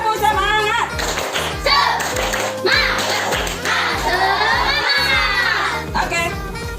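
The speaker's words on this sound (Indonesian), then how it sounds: "Kayaknya harus tepuk semangat dulu. Tepuk semangat." A classroom group of students performs the tepuk semangat clapping chant, loud voices shouting in unison over a rhythmic pattern of group claps, steady and close throughout.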